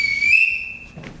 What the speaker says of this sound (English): everybody in this house answers to a whistle